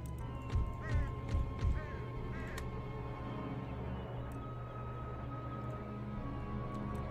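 Cavalry horses in the PC strategy game Empire: Total War, with a few quick clip-clop bursts and whinny-like calls early on over a steady battle drone, then only the continuous game ambience.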